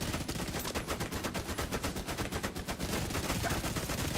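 Automated turrets in a video game fire rapid, sustained bursts, a dense rattling barrage of shots that runs unbroken and loud from start to finish with no talk.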